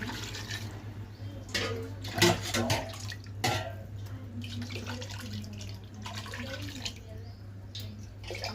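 Water pours into a cooking pot for Hyderabadi-style chicken biryani in a series of short splashing bursts over a steady low hum, loudest around the middle.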